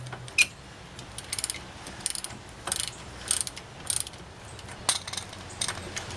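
Clicking ratchet-like metal mechanism sounds from a breaker bar working loose an outer tie rod end on a 2003 Chevy Malibu, coming in short repeated bursts of ticking strokes, fairly close, with no talking.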